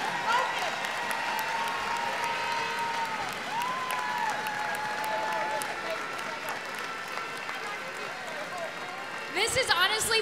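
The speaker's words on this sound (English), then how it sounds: "Let's give a round of applause for all the Panthers and Wildcats here today performing at the very end of our convocation." Crowd applause and cheering at a school convocation morning session, a steady wash of clapping filling the hall for about ten seconds, with shouts and voices mixed in and a louder burst near the end.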